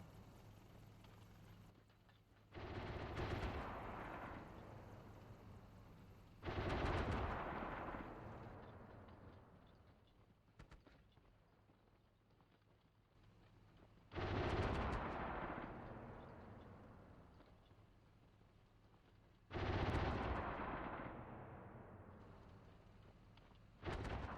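Heavy gunfire and shell impacts striking a tank in the combat simulator Steel Beasts Pro PE: four loud booming blasts, each with a long rumbling decay, spaced several seconds apart over a continuous low engine drone.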